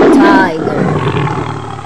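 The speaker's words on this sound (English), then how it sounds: "Tiger." A tiger roars loudly for most of the short clip, a deep sustained growl that fades slightly toward the end, with nothing else heard.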